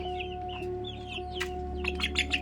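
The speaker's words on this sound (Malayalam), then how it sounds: "ഇത് നാടൻ കോഴി" A native chicken clucks softly in short, chirpy bursts, with a steady low hum in the background.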